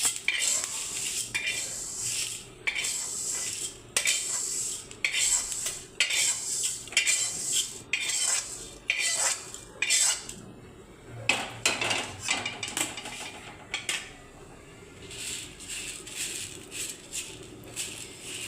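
Roasted millet being moved onto a plate, with repeated bursts of metal utensils clinking and scraping against dishes, close and uneven, separated by brief pauses, no talking.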